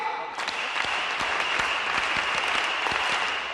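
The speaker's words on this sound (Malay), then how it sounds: "mari kita sama-sama buat tepukan semangat Elkan" A large stadium audience claps in unison at a motivational seminar, loud rhythmic beats at a steady pace that follow a short spoken count-in.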